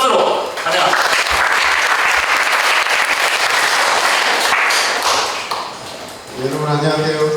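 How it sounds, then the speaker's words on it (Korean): A church worship lecture audience gives loud, sustained applause to welcome a speaker, the dense clapping filling the room for several seconds before fading as a voice begins. "큰 박수로 환영합니다"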